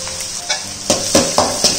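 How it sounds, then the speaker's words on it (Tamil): Onions and crushed garlic sautéing in a pan, a close sizzle broken by several sharp scrapes and stirs of a utensil against the pan at irregular intervals, with no voices. "நல்லா வதக்கி விட்டுக்கோங்க"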